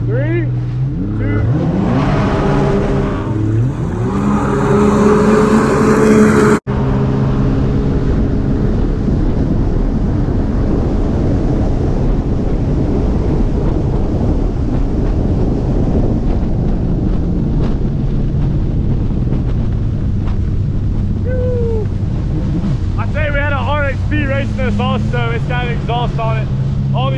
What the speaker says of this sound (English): that ski sounds pretty freaking sick too